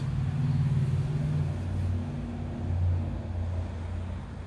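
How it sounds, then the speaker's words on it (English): Traffic noise from a very busy street heard from inside a house, a steady low rumble of passing vehicles with engine drones swelling and fading, fairly faint and distant. "you can hear a little bit of the street noise. It is a very busy street"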